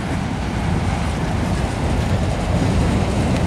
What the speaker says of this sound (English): I hate going under these bridges when the train's on it.